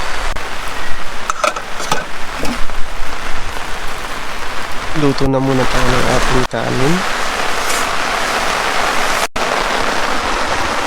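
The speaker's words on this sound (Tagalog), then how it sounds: "At ayan na nga, bumuhos na yung ulan." Dense, steady rain pours down hard and loud at a minivan campsite, a constant hissing roar with a few sharp clicks; a voice speaks briefly beneath it.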